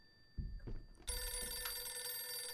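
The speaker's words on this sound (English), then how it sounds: "Why is a digital phone making that noise?" A digital phone with an old-style mechanical bell ringtone breaks into rapid, loud, continuous ringing after a few soft knocks and thumps, with no one speaking over it.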